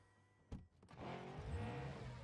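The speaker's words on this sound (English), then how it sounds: "Car sounds cool." Engine of a Lamborghini in the video game PUBG, starting with a couple of sharp clicks, then a steady low revving rumble that builds and holds, fairly quiet overall.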